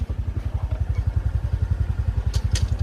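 A motorcycle idles in neutral close by, its engine thumping in a steady, rapid low pulse with slight clatter, loud and continuous, with no talk.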